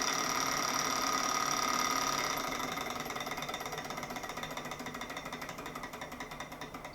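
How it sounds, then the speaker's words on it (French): A small candle-powered Stirling engine turning an alternator gives a fast, even mechanical chatter with a bright whirring hum, steady throughout and slowly easing a little in loudness. "L'énergie fournie par la bougie va entraîner le moteur Stirling qui va lui-même entraîner l'alternateur."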